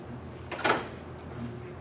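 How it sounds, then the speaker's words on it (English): A door is pushed shut with a single short thud and rattle in a town board meeting room, otherwise quiet with low room hum. "I was going to close the door just for the noise."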